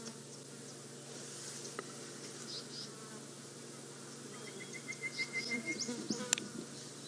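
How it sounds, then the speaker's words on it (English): Flies buzz in a quiet drainage line during a morning safari drive, with faint, intermittent drones that swell and pass close near the end. "even though the buzz of the flies are behind us"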